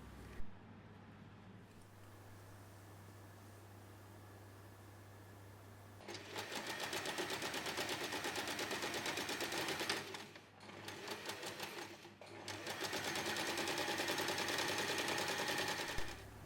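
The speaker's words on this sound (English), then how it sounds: "Sew across to form the box corners." Sewing machine stitching across the box corners of a reversible fabric tote bag, a quiet hum then two loud, fast rattling runs of stitching separated by a short pause, close up with no talking.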